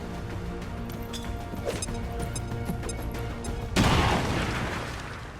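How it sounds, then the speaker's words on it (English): A grenade detonates in XCOM 2, a sudden loud burst partway through, followed by a decaying rumble after a stretch of steady game ambience and music. "Throwing grenade."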